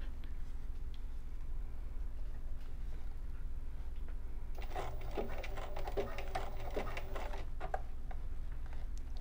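A sewing machine zigzag-stitches elastic onto swimsuit bottoms, its quick rapid clatter starting partway through and running in short steady bursts over a constant low hum.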